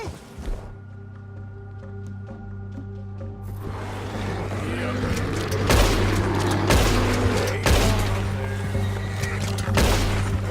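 Gunfire in Red Dead Redemption 2 during a bear encounter: several loud, sharp shots cut through sustained game music and a rumbling ambience.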